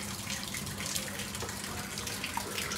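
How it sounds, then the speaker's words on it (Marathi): Heavy monsoon rain pours outside a home, a dense, even hiss of falling water heard close and steady without pause. "हे बघा किती पाऊस पडतो बाहेर"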